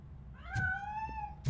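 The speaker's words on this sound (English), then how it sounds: "That cat must be hiding inside. Let me lure it out." A cat in the video game RoboCop: Rogue City gives one drawn-out meow, rising then falling, close and clear with a brief click before it and another after.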